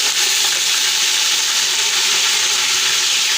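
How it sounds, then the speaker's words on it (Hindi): Garlic and ginger paste sizzling in hot oil for a beef yakhni pulao, a steady loud bright hiss and crackle throughout with no talking. "तेल हमारा गर्म हो चुका है। इसमें सबसे पहले लहसुन अदरक डालेंगे"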